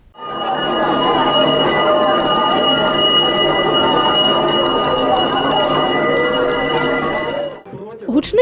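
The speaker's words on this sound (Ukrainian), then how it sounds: "звук першого шкільного дзвоника" A handbell rings continuously and loudly for several seconds as the first school bell of the year, a bright rapid jangling that stops abruptly, with faint voices around it.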